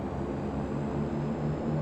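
Turboprop engines of a de Havilland DHC-6 Twin Otter in the FSX flight simulator, holding a steady, low droning hum during a short taxi on the ramp, with no one talking.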